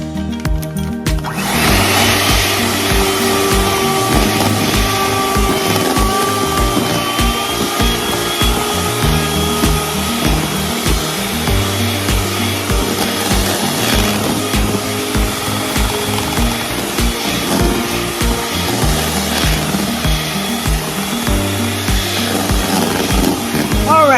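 An electric mixer beats lemon pound cake batter in a steady loud whir with a rhythmic scraping pulse, running continuously throughout, no talk.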